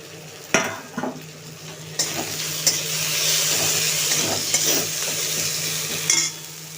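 Chopped tomatoes hit a pan of frying onions with a sharp clatter, then a steady loud sizzle follows, broken by a few stirring knocks of a spoon against the pan.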